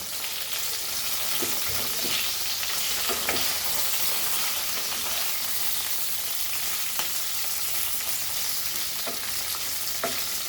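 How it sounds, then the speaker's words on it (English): Green chilies fry in a pan for a Goan green chilli curry, giving a continuous close sizzle and crackle with occasional sharper pops and stirring scrapes. "And here our chilies are getting nicely fried."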